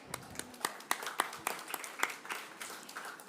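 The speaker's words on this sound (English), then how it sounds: "Let's give a round of applause." Scattered hand claps from a conference audience at a pavilion session, a handful of distinct claps spread over a few seconds rather than a full ovation, fairly quiet and close.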